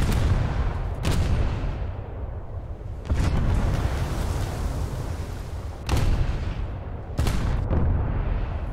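Rolling salvos of gunfire and booms from an arcade battle video game, a dense continuous roar punctuated by several sharp, loud blasts spaced a few seconds apart.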